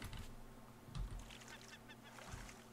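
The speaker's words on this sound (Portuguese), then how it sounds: "Ó, tô ouvindo pássaro." Faint honking bird calls in the game Raft over a low steady background hum, a few scattered cries.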